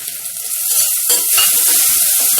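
Curry leaves and spices sizzle loudly in oil over a low flame, a close, dense hiss that holds steady and swells slightly midway. No voices.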